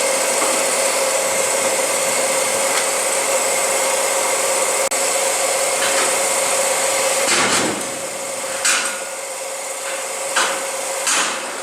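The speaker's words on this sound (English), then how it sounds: "back the combine out so I have enough room to blow out the radiators and the air filters" A loud, steady hiss of compressed air blowing out combine harvester radiators and air filters, continuous and close, with a tonal whine. Several short knocks and bursts come near the end.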